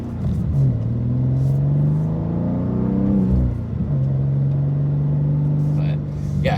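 A 2024 BMW M2 with manual transmission and S58 engine revs during a drive, rising and falling engine drone with rev-matched blips between gears, loud and close inside the cabin, with occasional talk over it.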